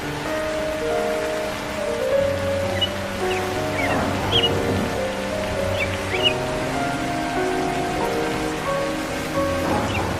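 Cartoon rain falls in a steady, even patter beneath sustained background music, with a few small bird chirps rising over the wash.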